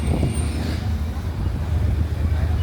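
Deep rumbling idle of an old truck with air brakes, close and heavy, with a short hiss early on and voices talking over it.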